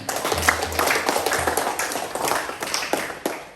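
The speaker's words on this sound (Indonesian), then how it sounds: "Kita tepuk tangan dulu." A classroom group claps hands together in a steady, busy patter that runs throughout, fairly loud and close, with a few voices mixed in.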